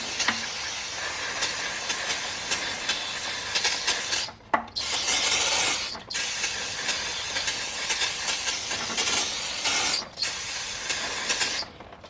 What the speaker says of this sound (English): When you're cleaning your calipers, make sure you just use brake clean.